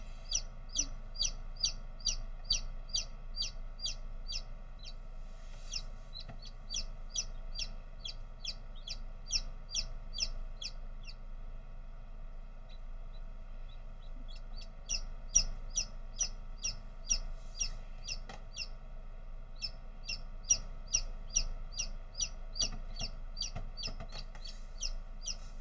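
Newly hatched chicken chick inside a Nurture Right 360 incubator peeping in quick, high, repeated bursts, series of sharp chirps with short gaps, over a faint steady machine hum.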